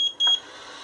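A Lescolton T009i laser hair removal device gives a short, clear electronic beep, two quick bright tones close up, then a faint hum.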